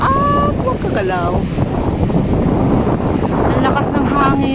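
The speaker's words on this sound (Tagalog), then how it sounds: "Ang lakas ng hangin." Strong wind buffets the microphone outdoors at a nature park with mountain views, a loud, constant roar throughout, while voices talk over it.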